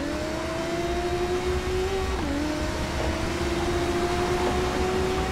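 A racing motorcycle engine in TT Isle of Man 2 sings as a steady high drone, dipping briefly in pitch at a gear change before climbing again, with steady road noise beneath and no talking.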